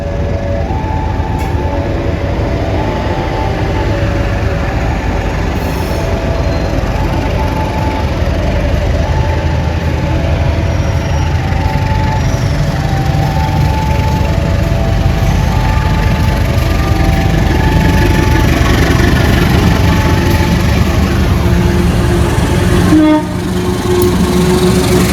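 An extra Gambir–Yogyakarta passenger train rolls past in Indonesia, a loud, close, continuous rumble of wheels and carriages that dips briefly near the end.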